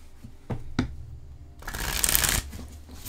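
Tarot cards are tapped twice, then riffled in a brisk shuffle lasting about a second, close and fairly loud in a quiet room.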